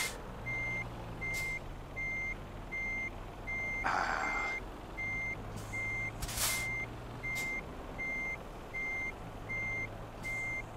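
Repeated electronic reversing beeps from a truck in Euro Truck Simulator 2, steady evenly spaced tones sounding over a low idling engine hum, with a short hiss burst partway through.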